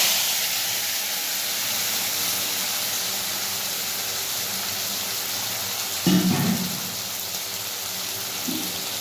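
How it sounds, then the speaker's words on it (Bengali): Prawns rubbed with salt and turmeric fry in hot oil with a loud, steady, rain-like hiss, broken briefly by a nearby clunk of a utensil toward the end. "তো প্রথমে আমি চিংড়ি মাছগুলোকে ভেজে নেব।"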